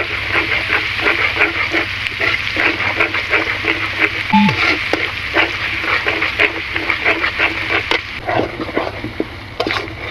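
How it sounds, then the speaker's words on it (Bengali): Onions fry in hot mustard oil and are stirred now and then, a steady, loud, close sizzle with scraping and clinks of the spoon against the pan running throughout, no voices. "এখন তেলটা একটু গরম হলে আমি পেঁয়াজটা একটু নেড়ে দিচ্ছি।"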